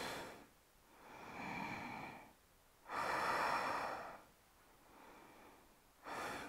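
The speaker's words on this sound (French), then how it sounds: "Évidemment, on respire." Slow, deep breaths during a seated yoga twist, each long inhale and exhale close and soft, alternating in an unhurried rhythm with short quiet pauses between them.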